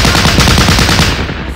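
Dense machine-gun and rifle fire from units in the Battle Academy Market Garden war game, a loud, continuous burst of rapid shots filling the moment without pause.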